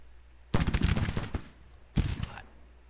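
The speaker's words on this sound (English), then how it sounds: "These skirmishers seem to be shooting through ammo quick." Civil War skirmishers firing in Grand Tactician: The Civil War, heard as a loud, ragged volley of overlapping musket cracks followed by a shorter second burst of shots a moment later.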